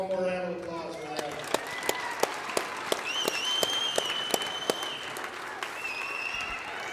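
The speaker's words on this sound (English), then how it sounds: "Let's give one more round of applause for that." A high school gym crowd at a varsity boys basketball game applauds student athletes with scattered, sharp claps over a murmur of voices and brief shouts, the clapping spread and uneven rather than dense.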